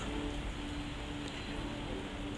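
Steady rain falls outdoors in a continuous, even hiss that stays soft and unbroken, with no voices over it.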